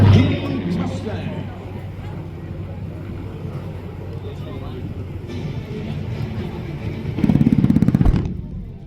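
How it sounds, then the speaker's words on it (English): WWII P-63 Kingcobra and P-51 Mustang fighter planes make a strafing run at a Southern California airshow, with a broad engine roar that holds steady and then swells with a rapid pulsing near the end, under crowd noise and a voice. "Strafing run by the B-63 King Cobra. Followed by the B-51 King Mustang."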